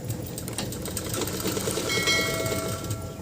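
A sewing machine stitches a kurta seam, giving a continuous rapid mechanical whirring and clatter at close range, with a steady rhythmic needle beat and no voices.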